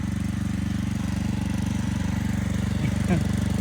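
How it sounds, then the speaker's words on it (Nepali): A tractor's diesel engine chugs steadily close by while ploughing a field, with a rapid rhythmic knocking throb, running continuously without a break. "ट्र्याक्टर हालो, ट्र्याक्टर गर्छु घरिघरि"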